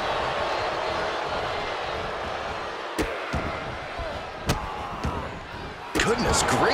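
Wrestling video game match with a wrestler stomping an opponent: sharp slamming impacts land at scattered moments over a constant roaring crowd, with a commentator talking.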